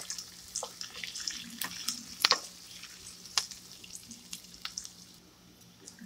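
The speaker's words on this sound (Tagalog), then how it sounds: "gisa ko lang una yung sibuyas" Onions sautéing in a wok for a simple munggo dish, giving a steady soft sizzle with scattered crackles and occasional sharper pops, close by and without talk.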